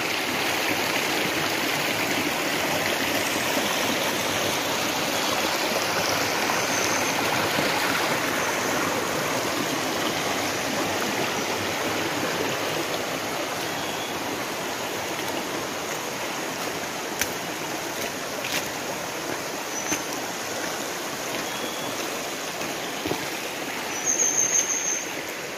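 A forest stream in North Aceh flowing toward a river, a steady rushing, babbling wash of water heard close and continuous, with no voices.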